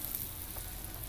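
Tempe with chicken liver and gizzard simmering in coconut milk in a pan, giving a steady, close bubbling sizzle with faint stirring throughout the short moment.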